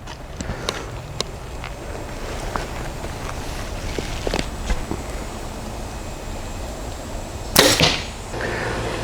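Arrows are loosed from a Mathews Lift RS compound bow outdoors, with several sharp, separate snaps spread across the stretch over a steady background hum. A louder burst of noise comes near the end.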